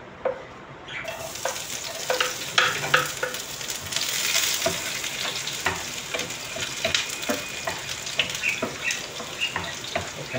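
Garlic sizzling and frying in a pan, a continuous crackling hiss with scattered pops and occasional stirring scrapes, close and steady throughout.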